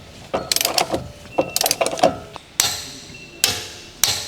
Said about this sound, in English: With large torque wrench, torque the axle retaining nut.